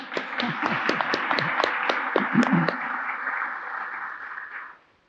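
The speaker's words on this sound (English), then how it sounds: "I think he deserves some applause." Audience applause at a courtyard dedication ceremony at Pasadena City Hall: a dense patter of clapping with sharp individual claps at first, then a steady, even wash of hands that fades out near the end.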